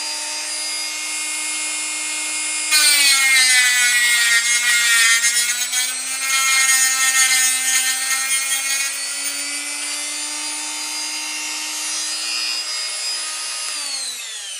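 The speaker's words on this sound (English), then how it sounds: "So I can use more of the cutting disc." A tungsten electrode sharpened against a spinning cutting disc through a 3D-printed PLA guide: a shrill, steady grinding whine that starts a few seconds in and carries on until near the end, with no talking.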